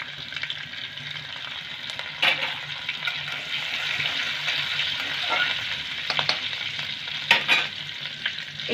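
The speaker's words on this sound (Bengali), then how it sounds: "রসুনটাকে একটু নেড়ে নেব" Chopped garlic sizzles in hot oil in a pan over a medium gas flame, a steady bright frying hiss broken by a few louder scraping stirs, with no talking.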